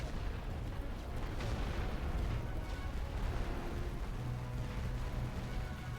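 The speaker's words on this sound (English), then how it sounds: "Looks like we're getting hit with artillery over here as well" Artillery barrage on a First World War Western Front battlefield in a video game, a steady dense rumble of distant explosions and booms rolling continuously under the mix with no clear gaps.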